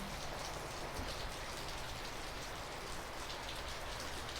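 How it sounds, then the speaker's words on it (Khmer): Heavy, gusty rain pours down steadily in Northern California, a dense, continuous roar of drops hitting surfaces with no pauses or voices throughout. "It's raining very hard it's pouring right now"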